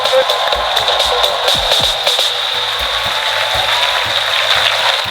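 A studio audience on a comedy talk show breaks into loud, sustained applause, dense and close, with some sharp claps standing out and a steady high-pitched hiss running underneath.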